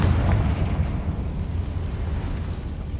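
Confringo fire spell in Hogwarts Legacy bursting in a loud, rumbling explosion at close range, with a low booming roar that rolls on and slowly fades over a few seconds.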